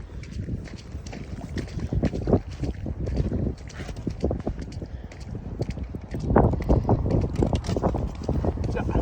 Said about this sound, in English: It is really windy out here though.